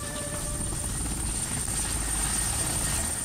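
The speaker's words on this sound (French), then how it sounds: "l'un des modèles d'hélicoptères les plus puissants jamais conçus." A Super Puma heavy-lift helicopter, a five-tonne machine used for a lifting job at a zoo, flies with a steady, loud rotor and turbine roar that holds without a break throughout.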